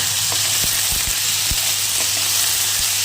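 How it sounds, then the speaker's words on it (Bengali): Cut, washed potatoes fry in plenty of oil in a kadai, giving a dense, steady close sizzle with a few soft knocks and stirs and no talking. "আমি আলুটা কেটে ধুয়ে নিয়েছি কড়াইতে বেশ কিছুটা তেল দিয়ে দিয়েছি"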